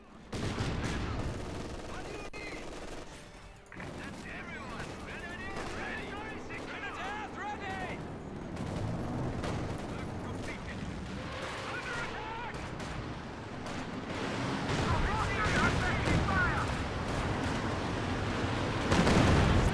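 A rocket artillery barrage and gunfire in a strategy video game match, with dense, continuous rattling volleys and booming impacts that build toward the end, under a commentator's talking.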